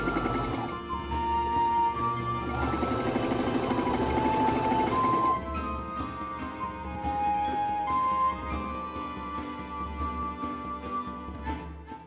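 A sewing machine stitches two layers of silk fabric in a steady, fast mechanical whir with regular clicks. It sounds close and continuous and pauses briefly partway through, with music playing underneath.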